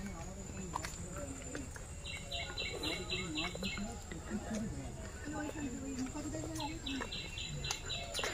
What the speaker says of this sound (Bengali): পাখির ডাক